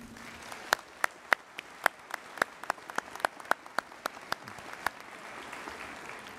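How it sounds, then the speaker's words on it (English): Sparse, distinct claps from a small portion of the audience at a university commencement ceremony, a few dozen separate hand claps spaced irregularly, fairly faint and thinning out toward the end. "Please applaud and thank our guests this morning."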